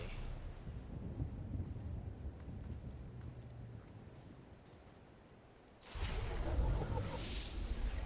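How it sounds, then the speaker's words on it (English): Steady rain hisses with a low, rumbling roll of thunder underneath, swelling louder near the end. "We can hear the rain and the thunder."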